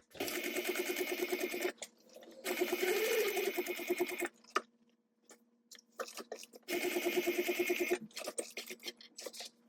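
A sewing machine stitches fabric at a 1/8 inch seam allowance in three quick, close bursts of steady rapid clatter separated by pauses filled with small handling clicks.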